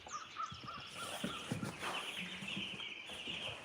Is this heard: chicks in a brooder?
yes